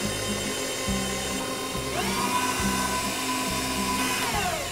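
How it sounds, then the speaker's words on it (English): An electric mixer whirs steadily while whipping butter, sugar and egg whites for lemon cupcakes, a close continuous motor drone with rhythmic pulses and a shift in pitch partway through as the speed changes. "we can have the mixer on low"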